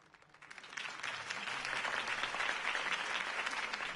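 Crowd applause in a Batman video game swells from a quiet start into steady, sustained clapping and cheering from a large audience, with no one speaking over it.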